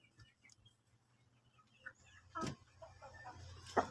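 Shamo chickens in a breeding pen give soft, scattered clucks and a few louder calls near the end, against a quiet background with occasional faint rustling.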